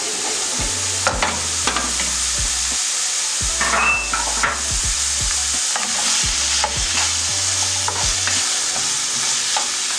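Purple onion sizzles loudly in a hot pan under a steady hiss, with repeated scraping stirs knocking against the pan throughout.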